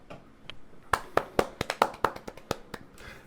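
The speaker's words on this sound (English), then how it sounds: "Can we clap?" A small group claps hands in a casual music podcast setting, a dozen or so sharp, uneven claps close by, starting sparse then quickening before tapering off.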